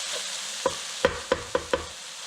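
Eggplant and zucchini sautéing in a pan give a quiet background sizzle, broken by five sharp stirring knocks of a utensil against the pan in quick succession.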